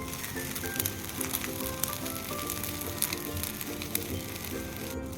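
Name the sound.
garlic idli upma roasting and sizzling in a pan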